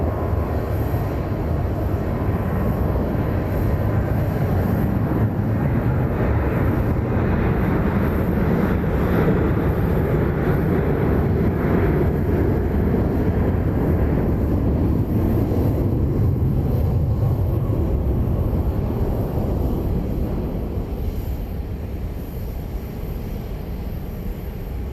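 Boeing 737-700 passing at Dallas Love Field: a continuous broad jet roar for about twenty-five seconds, heard at a distance and holding steady before easing slightly near the end, with no speech.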